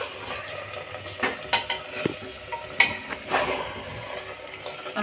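Mutton curry with spices being stirred in a pressure cooker, soft scraping and wet sloshing strokes with faint sizzling, a few sharper spoon knocks against the metal, quiet and close.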